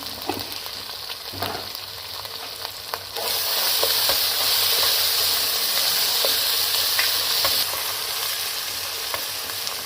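Minced meat keema frying in a pan, a constant close sizzle with occasional stirring clicks, swelling louder partway through as the pan hisses harder, then easing back a little.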